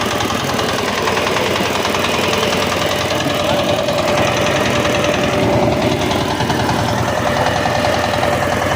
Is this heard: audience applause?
no